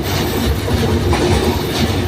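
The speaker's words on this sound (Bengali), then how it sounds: "ট্রেন যাচ্ছে অপূর্ব এক সৌন্দর্য ট্রেন চলছে" A train rolls across the long Jamuna river bridge in a steady, loud, continuous rumble with a faint rhythmic clatter of wheels over rail joints, close by and with no voices.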